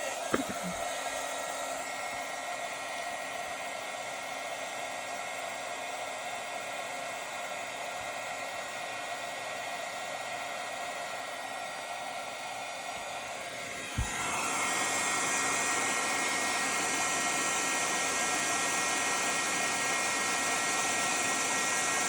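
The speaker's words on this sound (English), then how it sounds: "So I'm gonna get my heat gun on. It's gonna be a little loud." A heat gun blows with a steady, loud airy roar that jumps in pitch and intensity partway through after a sharp click, no talking.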